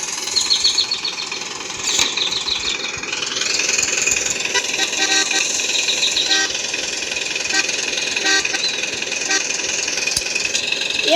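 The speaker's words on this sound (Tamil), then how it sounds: "அப்புறமா வண்டி எடுத்துட்டு ஒரு 2-3 ஹார்ன் அடிச்சுட்டு பார்ப்போம்" Several short car horn toots sound over a running engine and street noise, with a few quick beeps spaced across the scene.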